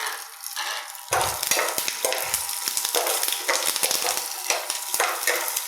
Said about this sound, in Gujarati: આપણે એને 1 મિનિટ ઢાંકીને વઘાર થવા દઈએ.